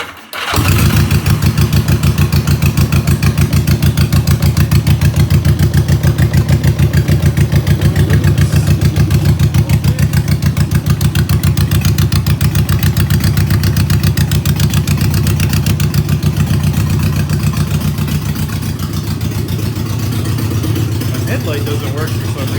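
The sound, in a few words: bobber motorcycle engine idling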